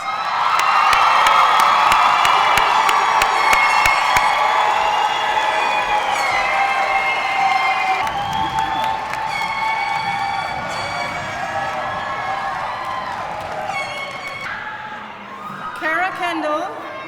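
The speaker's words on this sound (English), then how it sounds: "let's have a big round of applause for all of our graduates" Big round of applause and cheering from a graduation crowd honoring nursing graduates, with whoops and shouts over steady clapping; it thins and fades toward the end.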